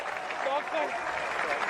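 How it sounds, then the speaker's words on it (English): Audience applause at a sports show taping: steady dense clapping from a crowd, moderately loud and continuous throughout, with no clear voices standing out above it. "They're still applauding because they can finally make noise."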